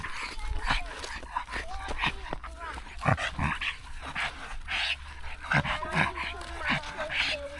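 A dog out on a walk along a drove near Stonehenge, giving short whimpers and yips amid steady outdoor wind and footsteps, with people talking intermittently over it.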